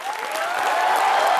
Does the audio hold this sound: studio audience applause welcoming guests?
yes